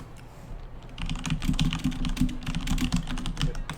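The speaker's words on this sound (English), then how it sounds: "Sorry, I'm typing something." Rapid clattering keystrokes on a computer keyboard start after a brief quiet moment and continue in dense, uneven bursts, close to the microphone, with a low hum beneath.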